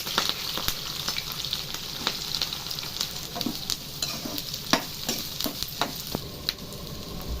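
Long-cut green chilies and halved onion pieces frying in hot oil for chicken fry, a steady dense sizzle with frequent sharp spatters and scraping stirs throughout, fairly close and without talk.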